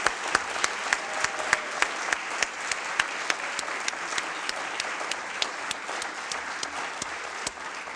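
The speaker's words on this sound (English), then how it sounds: "how about a round of applause for the 2022 University of Richmond Athletics Hall of Famers" Ceremony crowd applauds university athletics Hall of Fame inductees, a steady roar of many hands clapping for eight seconds, with a few loud close claps cutting through at a regular pace.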